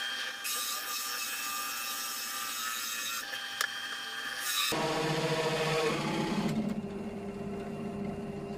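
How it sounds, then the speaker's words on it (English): A hole saw bit grinds through pallet wood in a continuous, fairly loud cutting whine, with the tone dropping partway through as the cut deepens. "I use the relevant hole saw bit to cut out the holes"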